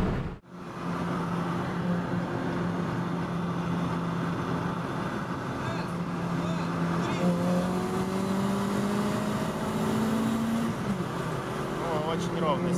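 Lada Priora and Kia Cerato 2.0 automatic accelerating side by side from a race start, with a steady engine drone that rises in pitch through the run. It is heard from inside a car, with talk over the engine.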